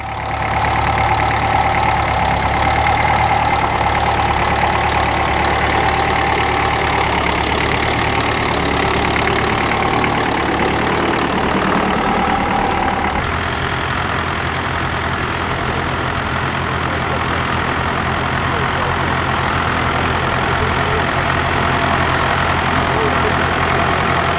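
Vintage grey Ferguson tractors running steadily nearby at a ploughing match in Ashover, a loud chugging drone with a slight shift in tone partway through.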